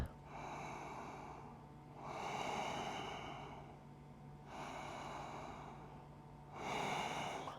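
Slow, deep breaths during a vinyasa flow yoga class, each long inhale and exhale audible close by as a steady airy rush, repeating about four times with short pauses, no talking.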